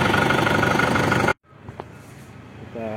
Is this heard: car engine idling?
yes